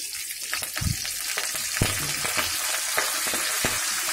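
Ginger, green chilies and curry leaves sizzle in hot oil for rava kichadi, a steady loud frying hiss with repeated spoon scrapes and stirring clinks throughout.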